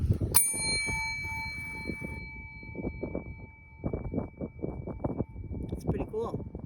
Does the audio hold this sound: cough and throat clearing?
no